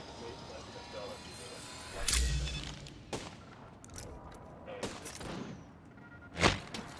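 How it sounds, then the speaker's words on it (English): Gunfire in the video game Apex Legends: several sharp shots and short bursts ring out at irregular intervals, some loud and close, mixed with game effects while a player talks over it. "Opening fire."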